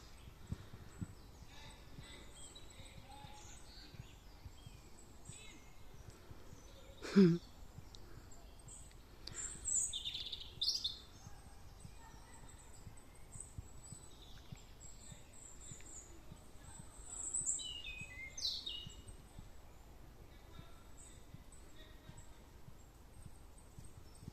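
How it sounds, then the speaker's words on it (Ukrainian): Birds in a forest in early spring sing and call in faint, scattered chirps and short whistles, with one sharper note standing out amid quiet ambient background. "Дуже гарно пташки співають, дуже гарно. Перегукуються одна з другою."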